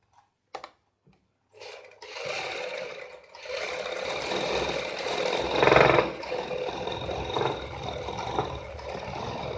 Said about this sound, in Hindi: तो इसको हम यहाँ पे सिलाई लगा लेते हैं इसी शेप में